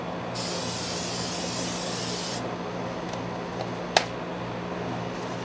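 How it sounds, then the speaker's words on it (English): Cooking spray hisses onto a grill grate in one steady burst of about two seconds over a low background hum, followed by a single small click. "Spray the grate thoroughly like you were supposed to do in the first place."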